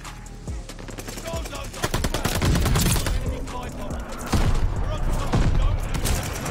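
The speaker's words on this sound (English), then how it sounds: "Boom, shotgun to the face." Rapid gunfire in a Call of Duty Vanguard match, including shotgun blasts, as dense layered volleys with heavy booming thumps, with a player talking over the shooting.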